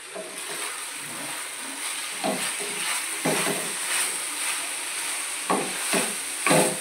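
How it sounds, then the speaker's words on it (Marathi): Okra frying in oil in a kadhai sizzles continuously while a spoon stirs it, with repeated scraping bursts at an uneven rhythm close by. "भेंडी हलवून घ्यायची।"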